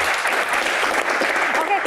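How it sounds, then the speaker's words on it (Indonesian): An audience at a Constitutional Court Q&A event applauds Pak Suwarto in a dense, loud burst of many hands clapping at once, brief and continuous, with a voice faintly present underneath. "Tepuk tangan untuk Pak Suwarto ya"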